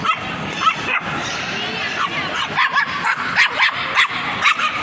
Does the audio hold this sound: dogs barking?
yes